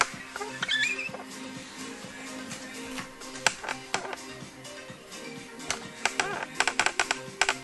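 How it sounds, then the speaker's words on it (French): A tripod squeaks and creaks in short, repeated high squeals while someone does push-ups, with irregular taps and knocks mixed in at close range. "c'est mon trépied qui grince un peu"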